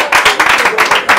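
An audience claps at a gathering in a short burst of rhythmic hand clapping, fairly close, with voices mixed in.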